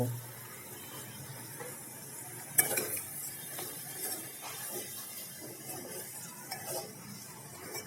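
A spoon scrapes and stirs bottle gourd with tomatoes and crushed peanuts in a pan, sounding as a soft irregular scraping over a faint sizzle, with one sharper clink of utensil on metal, close and quiet.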